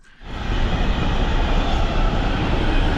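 A train rumbles into a station steadily after a brief quiet start, a loud continuous rolling roar of railcars passing close by.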